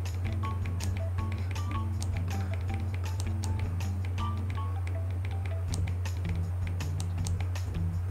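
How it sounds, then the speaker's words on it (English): Password being keyed in on a computer keyboard: a steady run of quick, close keystroke clicks over a constant low electrical hum. "I need to key in my password again"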